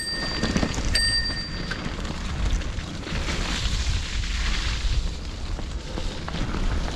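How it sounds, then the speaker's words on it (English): A bicycle bell rings with a couple of quick bright dings while the bike rides along, heard over heavy wind rumble and road noise. "Bit tricky to ring bell, ride bike and GoPro."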